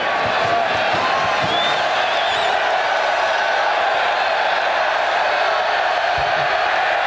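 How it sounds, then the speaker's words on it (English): A large crowd fills Kyle Field at a Texas A&M college football game against Houston, a constant dense roar heard from the broadcast booth, distant and steady, with faint scattered cheers and no distinct applause. "Nice crowd at Kyle Field"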